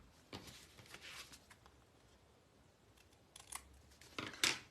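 Scissors give a few quick snips trimming the ribbon ends on a handmade masculine greeting card, with a soft rustle before the louder, crisper cuts near the end.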